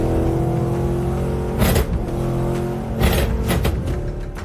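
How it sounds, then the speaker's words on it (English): A 707-horsepower Dodge Challenger Hellcat accelerates hard with its supercharged engine, a steady loud roar punctuated by two sharp bursts of revving or gear changes, no voices. "707 horsepower responding to my right foot and the supercharger whistling with every acceleration."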